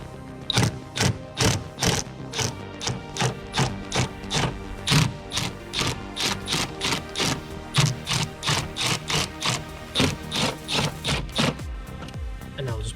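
A power tool gun with an extension adapter backs out T30 Torx screws on the blower motor of a 2001 BMW 330xi, giving a steady, fast, close run of ratcheting mechanical clicks that continues throughout with no talking.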